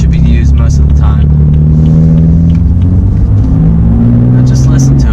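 A 2015 BMW M3 with its engine in sport mode, a loud, steady low rumble with rising and falling harmonic tones as it revs, heard from inside the car with a voice talking over it at the start and end.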